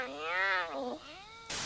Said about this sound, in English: Clouded leopards can't do either, instead they do this.